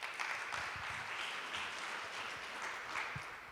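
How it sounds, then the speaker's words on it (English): Audience applause at the Open House Europe launch event, a steady wash of clapping from a crowd held at an even level throughout, fairly quiet and without voices. "Please join me in giving warm applause to Alice"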